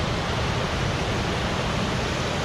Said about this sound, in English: apparently there's a whole set of rapids and falls